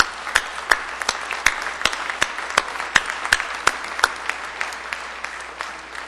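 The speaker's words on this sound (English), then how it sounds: "Please applaud." A university commencement audience applauds at Dakota State University, a steady wash of clapping from a large crowd with distinct louder claps popping out near the front, sustained throughout.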